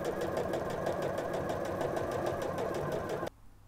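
A sewing machine running steadily while topstitching a second, wider row, a continuous close mechanical whir with a fast repetitive beat that stops abruptly near the end.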